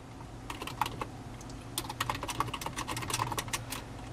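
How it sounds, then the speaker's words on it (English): Rapid typing on a computer keyboard, with a steady run of crisp key clicks that speed up in bursts and continue throughout, close and alone. "Instead of typing Karen Allen"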